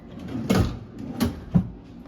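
Hotel room drawers and cabinet doors in a deluxe studio at Disney's Polynesian Village Resort are opened, giving three separate knocks and slides, each short, close by and fairly soft.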